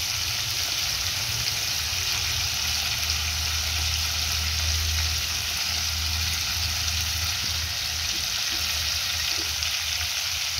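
Prawns sautéing over lowered heat in a pan for a Maharashtrian prawn curry, salted, giving a steady, close, continuous sizzle with faint scraping, no voices.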